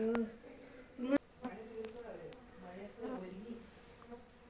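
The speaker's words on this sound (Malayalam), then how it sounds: "തേനീച്ച നല്ല കടിയാ കേട്ടോ" Honey bees buzzing around a honeycomb, their drone close and continuous while several sharp clicks and a person's voice come through over it.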